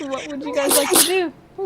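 A single sharp sneeze from a person at a Dungeons & Dragons game table, heard close up and loud right after casual talk, with speech resuming briefly afterward.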